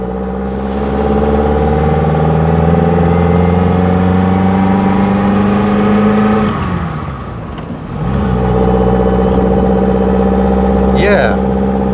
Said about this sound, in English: But listen to that induction noise